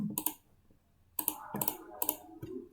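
Typing on a computer keyboard while working through an Excel problem: close, crisp key clicks in short bursts separated by brief pauses, with no talking.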